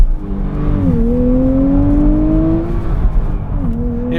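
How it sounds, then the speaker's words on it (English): A 2023 Nissan Z engine revs hard under acceleration, its pitch climbing steadily for about two seconds before a brief shift dip and renewed rise, loud and close throughout with steady road and drivetrain noise beneath. "It revs so fast, you kind of have to start shifting earlier than you think you would need to"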